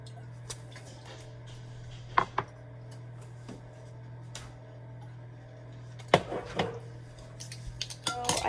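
Spoons and measuring cups clinking against a mixing bowl while vanilla and other waffle batter ingredients go in, scattered light taps and clatters over a steady low hum in a kitchen.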